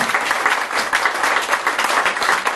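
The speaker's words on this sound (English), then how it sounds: "give them a round of applause" A crowd at a comedy stage hypnosis show applauds, a steady, close wash of many hands clapping through the whole moment with no pauses.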